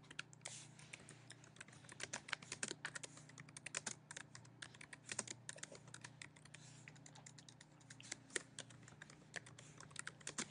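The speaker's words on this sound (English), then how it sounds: "so we'll just type something in here" Steady typing on a computer keyboard, a fast irregular stream of light key clicks at moderate level with no voices, over a faint low hum while text is entered on a website page.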